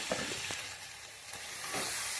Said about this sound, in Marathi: आम्ही मस्तपैकी हे असं तेलामध्येच पहिलं कळसून घेतो